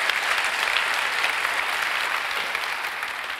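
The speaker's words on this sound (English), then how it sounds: "give Haley a round of applause" An audience at a distinguished lecture at the Clinton Presidential Center applauds, a steady, full wash of clapping from a large hall that tapers slightly toward the end, with no speech over it.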